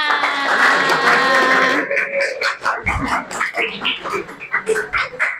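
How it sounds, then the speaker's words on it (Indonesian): A school class claps, starting with a tonal murmur of voices and then breaking into a loose round of quick, uneven hand claps that carries on to the end. "Ya, tepuk tangannya."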